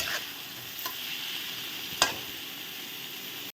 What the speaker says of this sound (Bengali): এখন আমি এটাকে ভালো করে নেড়ে নেব, নেড়ে মানে ভেজে নেব সুন্দর করে।